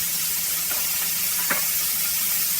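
Butter and garlic sizzle in a pan beside a fish fillet, giving a steady, close frying hiss with a few faint pops and clicks and no talking.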